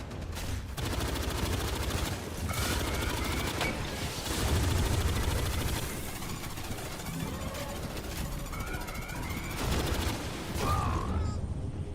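Turrets in Aliens: Fireteam Elite 2 fire sustained automatic bursts, loud and dense throughout, layered with other game combat noise.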